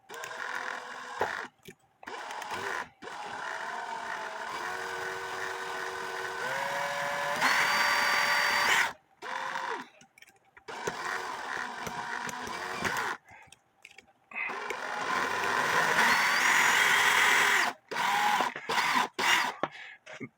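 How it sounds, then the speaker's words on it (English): Power drill slowly spinning a wheel from an 1887 Ansonia marble mantel clock, gripped with smooth-jaw pliers; a steady mechanical whir rises and falls in several runs, with brief pauses between them and no talk. "give it a light squeeze as you slowly turn the drill on"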